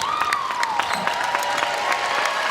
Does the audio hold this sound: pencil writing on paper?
no